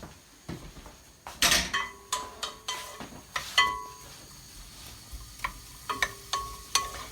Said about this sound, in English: We're going to go and give this a gentle cook for a couple of minutes just to soften the onions.